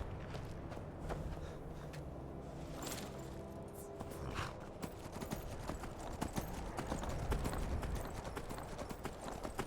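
Horse hooves clip-clop steadily in Skyrim, a continuous rhythmic trot layered over busy game ambience and effects at a fairly even level.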